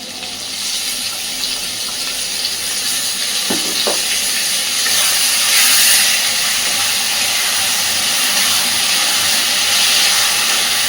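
Ground spice paste cooks with already-fried potatoes in a pan for a fish kalia, giving a loud, continuous hiss of sizzling and steam with a couple of brief clinks early on and no talking.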